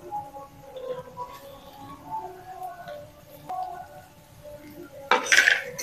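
Chopped carrot and beetroot dropped into a frying pan, with soft clinks and scraping of a utensil against the pan, then a louder burst of sizzle near the end.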